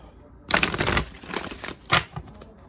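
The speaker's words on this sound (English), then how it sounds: "Let's shuffle these up" Cards being shuffled in quick riffling bursts, fairly close, with a short pause and a second flurry near the end.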